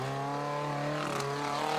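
A standard Suzuki Amiga 4x4 drives off-road through boggy ground in a New Zealand 4x4 competition, its steady engine drone held loud and close with a slight rise in revs.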